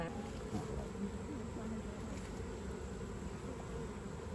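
Honey bees buzz at an open hive in a steady, dense drone that stays close and continuous throughout, with no speech over it.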